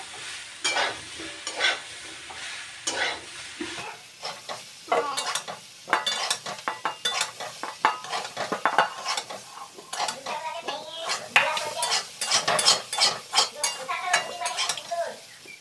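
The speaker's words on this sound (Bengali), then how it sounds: "এঁচড়টা আগে ভেজে নেবো, হালকা লবণ আর হলুদ দিয়ে একটু ভালো করে নাড়াচাড়া করে কষিয়ে ভেজে নেবো।" Jackfruit pieces frying in a pan with salt and turmeric, stirred continuously so a spatula scrapes and clinks against the pan in quick irregular strokes over a steady close sizzle.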